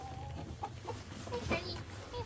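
A large rooster clucks a few times in a snowy yard, short soft calls close to the microphone over steady low background noise.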